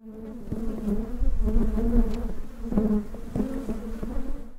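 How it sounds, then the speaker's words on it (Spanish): Honey bees buzzing during swarming, a close, dense droning hum that pulses in uneven swells as individual insects pass near, continuous and with no voices. "aprender qué es la enjambrazón de las abejas"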